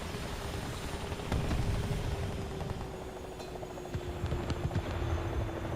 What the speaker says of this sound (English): Well, the helicopter's definitely back there somewhere.